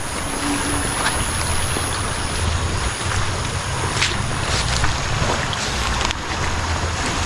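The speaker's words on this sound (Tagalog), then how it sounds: "laki lakas ng agos ng tubig" Loud, continuous rushing of fast-flowing water with steady roar and some wind buffeting, no voices.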